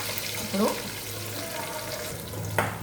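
Curry leaves splutter and crackle in hot oil with turmeric added, a steady close sizzle broken by a couple of sharper pops, with some kitchen water noise and a little talk behind it.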